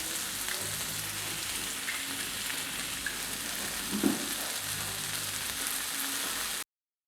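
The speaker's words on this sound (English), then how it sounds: "I add cooking cream." Chicken sizzling in a hot pan as cooking cream is poured in, a steady crackling fry with a brief soft splash midway, fairly quiet and without talk.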